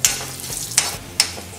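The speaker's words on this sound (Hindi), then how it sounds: "करी लीव्स है, और साथ में काजू डालेंगे। तड़के को हम थोड़ा भून लेंगे" Curry leaves and cashews frying in hot oil for a tempering for rawa idli, sizzling steadily with sharp bursts of spatter and the scrape of stirring, close and moderately loud.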